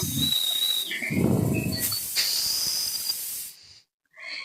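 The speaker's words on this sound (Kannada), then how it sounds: "ಕುಕ್ಕರ್ ಮುಚ್ಚಳ ಮುಚ್ಚಿ ಎರಡರಿಂದ ಮೂರು ವಿಸಿಲ್ ಮಾಡ್ಕೊಳ್ತಿದ್ದೀನಿ" A pressure cooker cooking pigeon peas vents steam through its whistle, giving a loud, close hiss with shrill whistling tones that rise and shift. The sound cuts off briefly near the end, then a short burst of hissing resumes.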